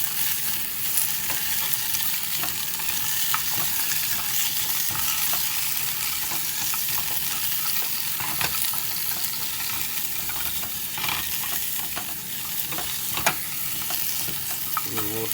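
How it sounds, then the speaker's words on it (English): Vegetables roast and sizzle in hot oil in a pot as the base for a fish stock, a loud continuous frying hiss with scattered pops and occasional stirring scrapes, no voices. "You're gonna add all your things to start the stock. Let it roast out."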